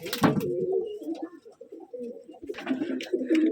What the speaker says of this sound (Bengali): এখানে আরো কবুতর আছে,